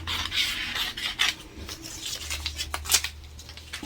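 Scissors cut through a paper sewing pattern along a fold line with close, crisp rasping snips and paper rustles in an uneven rhythm, heard alone.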